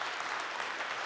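An audience at a security conference talk claps steadily, a dense, even wash of applause throughout, fairly distant, with no voices standing out.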